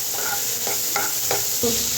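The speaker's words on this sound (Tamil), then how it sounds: "இது நல்லா கோல்டு கலரில் நல்லா வதங்கட்டும்" Onions sizzle steadily in a hot pan with curry leaves, with a few light scraping stirs of a spoon breaking through the constant frying hiss.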